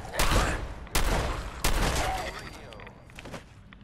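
Shotgun blasts in the Fallout video game, three loud sharp booms in quick succession each trailing off, followed by fainter clattering and a lighter pop near the end.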